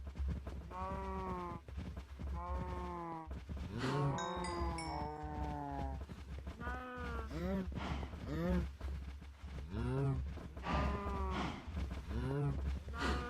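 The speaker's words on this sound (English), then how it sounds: "We got some cows." Cattle in the Minecraft video game moo repeatedly, several drawn-out lowing calls one after another over a constant low hum, with a short chime in the middle.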